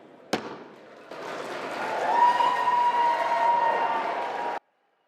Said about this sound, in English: You could hear some of the cheering there in the background as the House passed that measure